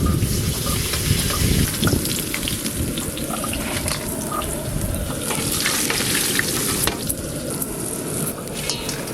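Loud, dense sizzling of large aar fish pieces frying in oil, crackling continuously with scraping and stirring noises throughout.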